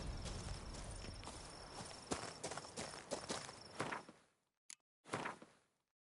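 Hooves of Roach the horse clip-clopping in The Witcher 3: Wild Hunt – Blood and Wine, a close, steady run of hoofbeats that slows and stops, followed by a couple of isolated thumps and then quiet.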